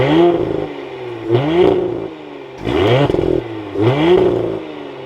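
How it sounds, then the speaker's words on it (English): A 2024 Audi SQ5 Prestige engine fires up and revs in repeated bursts, four loud rising swells of throaty exhaust note with the idle settling between them, close and with no talking. "So let's fire this up and take a listen to this SQ5."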